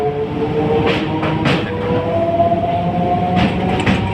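A passenger train runs at speed out of Old Delhi. It makes a loud, steady rumble heard from on board, with a rhythmic clatter of wheels over the rails and a few metallic clanks, and no voices.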